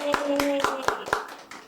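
Audience applause for an Indonesian wedding podcast, a short run of about six sharp, evenly spaced claps under a sustained tone, with talk alongside.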